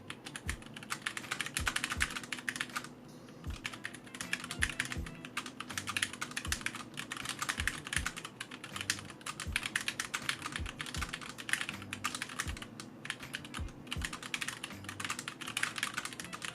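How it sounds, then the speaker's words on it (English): Steady, brisk typing on a GMMK mechanical keyboard with stock Gateron bronze switches and standard ABS keycaps, a continuous run of clacky keystrokes and a few heavier thocks, close up with no voices. "here's a quick sound test and look at my GMMK with the stock Gateron bronze switches"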